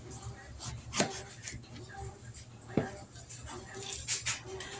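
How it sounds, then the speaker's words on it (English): Knife cutting an eggplant into chunks on a cutting board, a few sharp chopping thuds spaced irregularly against quiet kitchen background, near and fairly faint. "Now we're going to cut the eggplant up."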